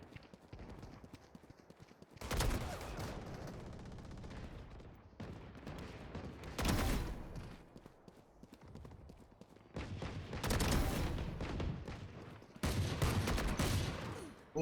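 Gunfire in a video game comes in bursts of loud, rapid shots, several clusters separated by short quieter gaps.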